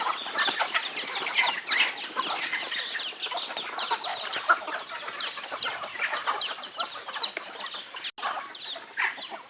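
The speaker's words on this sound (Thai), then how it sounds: "ไก่ที่แข็งแรงมันอยู่นี่" Chickens at a Buddhist forest temple farm where rescued poultry and livestock are kept cluck continuously in a dense, busy flock chorus, close and fairly loud, with no talk over them.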